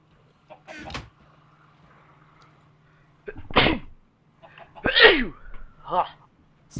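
One sharp, close sneeze bursts out amid quiet background hum and a couple of brief bumps and knocks, with short vocal sounds nearby.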